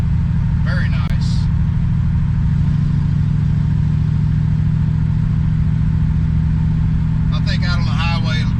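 C3 Corvette fitted with Doug's glass pack side pipes cruising in overdrive at low RPM, a steady close engine drone throughout, with brief talk at the start and end.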